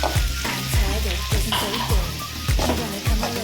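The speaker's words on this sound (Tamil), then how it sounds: "பாருங்க, நல்லா வெங்காயம் வதங்கிட்டு இருக்கு" Onions sautéing in a pan for a chicken gravy, a steady sizzle under repeated stirring strokes that scrape and clatter roughly every half second, close and fairly loud.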